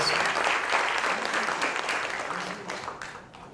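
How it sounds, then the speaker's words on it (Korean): An audience at a church pastor's book launch event claps in a burst of applause that starts strong and slowly fades, with some voices mixed in. "더 크게 좀 박수 한번 주시면"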